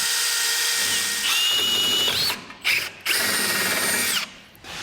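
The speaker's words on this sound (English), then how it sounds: "when drilling straight across over to the other side of our frame rail" A power drill whines loudly as it bores through a steel frame rail on a 2023 Ford, with a high grinding tone, pausing briefly twice before resuming.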